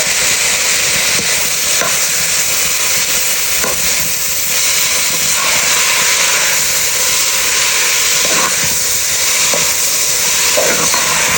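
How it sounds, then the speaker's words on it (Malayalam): Tomato, ginger and garlic fry in a hot pan, a loud continuous sizzle close by, broken by periodic spoon stirs and scrapes every second or two, with no talking. "അതിൻ്റെ വാട്ടർ കണ്ടൻ്റൊക്കെ ഒന്ന് പോകുന്ന വരെ നന്നായിട്ട് ഇളക്കിയിട്ട് പരിപാടി തുടങ്ങും നമുക്ക്"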